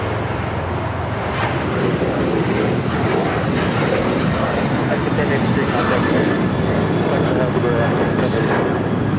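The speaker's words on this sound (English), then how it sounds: "This is Alaska Airlines 1083 taking off to Seattle on the 737-900ER" An Alaska Airlines Boeing 737-900ER bound for Seattle roars down the runway at LAX, a loud continuous engine rush with voices talking faintly underneath.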